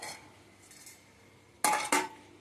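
A lid set onto a cooking pot on a home stove after a prawn and pui shak dish, two sharp metallic clanks close by after a quiet stretch.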